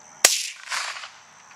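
A single sharp rifle shot fired at a hog during a hunt, roughly 70 yards out, a loud crack followed by a short rolling echo that fades over a second.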